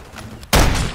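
Gunfire in the Call of Duty: Modern Warfare 3 video game: a sudden loud burst of shots erupts halfway through, following quieter muffled game ambience, and stays dense and sustained to the end.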